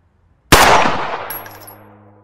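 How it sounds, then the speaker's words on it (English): A single loud close gunshot cracks out of silence and rings off in a long decaying tail, part of a dramatised story. "The man then pulls out a gun and shoots Tyshawn in the chest."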